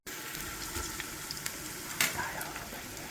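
Oil sizzles and crackles in a pot while biryani fries, a constant soft hiss with scattered pops and a clink of stirring partway through, fairly close with no talking.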